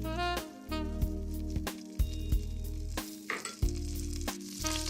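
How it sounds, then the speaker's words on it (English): Olive oil is poured into melted butter in a soup pot for chicken noodle soup, giving a soft sizzle broken by sharp clinks and knocks. "Next, I'm going to add in my olive oil."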